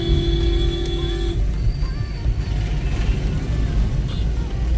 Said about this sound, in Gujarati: ટ્રાફિક ગજબનો છે અત્યારે બહુ ટ્રાફિક છે